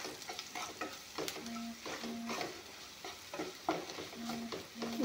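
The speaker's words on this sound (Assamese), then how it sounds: "এইখিনি অলপমান লাৰি দিম" Cumin powder and spices stirred in a frying pan, a soft sizzle with repeated scraping strokes of a spoon in an uneven rhythm, close and fairly quiet, with no talking.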